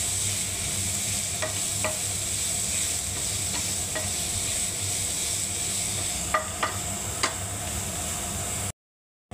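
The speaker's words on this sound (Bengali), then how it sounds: "এবার আমি লাউটা দিয়ে দিলাম বন্ধুরা। দেখুন এবারে নাড়তে থাকবো বন্ধুরা লাউটাকে।" Bottle gourd stirred and fried in a pan for halwa gives a steady, close sizzle throughout, with occasional clicks and scrapes of the spoon against the pan.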